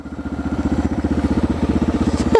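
Motorcycle engine idling close by with a steady pulsing chug and light mechanical clatter, ending in a brief sharp rise in pitch.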